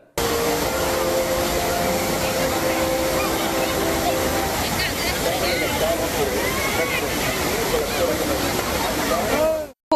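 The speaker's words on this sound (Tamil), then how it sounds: "அணையில் அருவி போல் கொட்டும் நீரில் அவர்கள் நீராடி மகிழ்ந்தனர்" Water pours like a waterfall over Kodiveri dam, a loud, steady broadband rush that holds for nearly the whole clip, with crowd voices and chatter audible beneath it.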